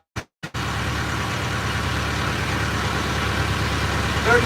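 A boat engine runs at speed, giving a steady, close droning rumble that starts after two brief knocks and holds for about four seconds.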